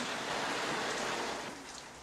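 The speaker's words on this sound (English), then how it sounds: "Well, right now, it's pouring rain." Heavy pouring rain, a steady dense wash of drops hitting surfaces at close range, loud and continuous with no voices over it.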